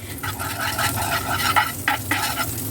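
About five grams of butter sizzles steadily in a hot pan for an omelette, a close crackling fry with occasional scraping stir sounds over it.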